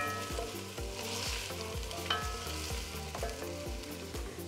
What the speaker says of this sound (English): First in goes the onions with a little bit of salt.